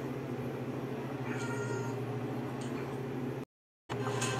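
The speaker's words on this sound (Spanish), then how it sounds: "Aquí vemos el gatito trepador." A climbing kitten meows faintly in short, thin calls over a steady low hum and background noise, with a brief cut to silence near the end.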